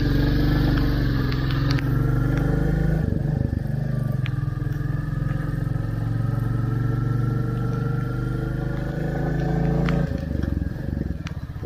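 A Royal Enfield Classic 350 motorcycle ridden on a wet road in cloudy, rainy weather, its engine thumping steadily up close throughout with some rattly clatter.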